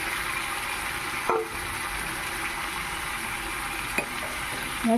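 Boiled jackfruit and fried potatoes sauté in oily spices in a pan, with a steady, moderate sizzle and a couple of sharp utensil knocks against the pan.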